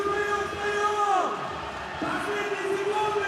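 Crowd noise fills a basketball arena during a FIBA World Cup qualifier between Russia and Finland, a steady cheering roar with a sustained horn-like tone rising and falling over it, commentary voice mixed in.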